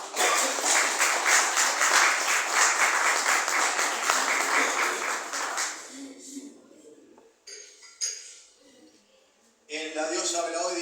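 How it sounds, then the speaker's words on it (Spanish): A church congregation claps loudly during a Spanish-language sermon, the dense, rhythmic clapping lasting about six seconds before stopping abruptly, followed by quieter voices and short bursts of speech. "denle un aplauso al Señor."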